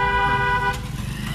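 A car horn gives one loud, close blast for well under a second during a driving lesson on the road, then stops, leaving engine and road rumble.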